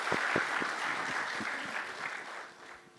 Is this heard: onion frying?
no